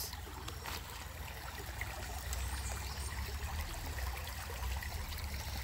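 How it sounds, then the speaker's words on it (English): River water flows over rocks in a soft, steady rushing wash with faint trickling detail, moderately distant and continuous, with no voices. "I am seeing the water flowing down"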